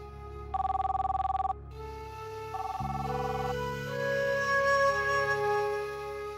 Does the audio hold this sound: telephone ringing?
yes